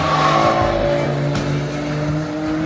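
Chevrolet Corvette on the Nürburgring, a loud nearby engine note with steady harmonic tones, a faint tire squeal edge, holding strong then easing slightly as the car moves past.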